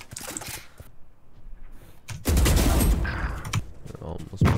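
Shotgun fire in the Valorant video game, a loud burst of blasts after a quieter stretch, followed by more scattered shots.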